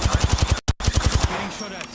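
Rapid automatic gunfire from enemies in the video game Apex Legends, a fast regular burst of loud close shots with a brief gap, fading into a softer rattle at the end.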